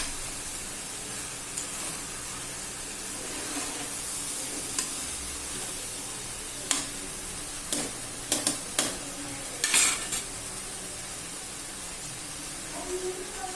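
Basmati rice stirred and sautéed in a hot pan for peas and corn pulao, a soft continuous sizzle with occasional sharp scrapes and clinks of a spoon.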